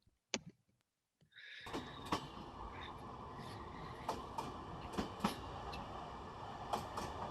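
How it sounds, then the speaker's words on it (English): A train in a video game set in Iowa and Illinois rolls along as a steady, close rumble, with sharp clicks and knocks recurring over the continuous noise after a brief quiet start. "The train passes rapidly across Iowa, crosses the Mississippi, and heads into Illinois."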